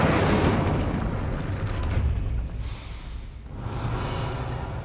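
A roaring fire blast from the Incendio spell in Hogwarts Legacy, a loud broad whooshing burst that swells at once, fades over a few seconds, then flares again with a second softer rush.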